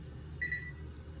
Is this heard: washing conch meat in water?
no